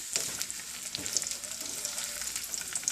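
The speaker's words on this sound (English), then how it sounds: "So here goes bangan, eggplant. Just stir this again." Eggplant sizzles steadily in a hot pan for a Punjabi radish and eggplant sabzi, broken by soft, scraping stirs of a spatula through the pieces; continuous close frying with no talk.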